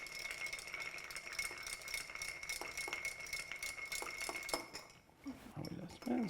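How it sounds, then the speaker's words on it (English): Ice rattles and clinks steadily against a mixing glass as a gin martini is stirred, a quiet rhythmic tinkling that stops near the end, followed by a few clunks and faint handling noise. "And it can take a little while to stir."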